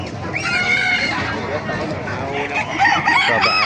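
Chickens and roosters at a poultry market in Baliuag, with hens clucking and birds crowing close by over a constant crowd murmur and people talking.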